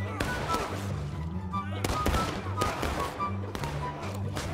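Revolver shots in the Civil War video game War of Rights, several sharp cracks spread through the scene among other gunfire and thuds, with a voice talking over them.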